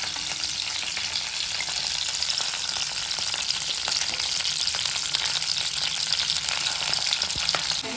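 Cut green chillies fry in hot oil, giving a constant, close, bright crackling sizzle with tiny pops throughout and no voices.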